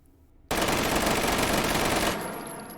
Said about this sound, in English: Onto the MX4. We're going to do it full auto,